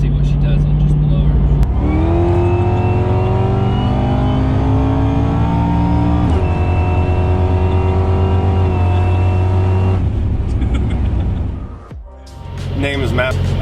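A supercharged 2009 Cadillac CTS-V pulls hard on blower boost alone, its engine whining and rising through several gears with brief shift breaks, loud and close, before the power cuts near the end.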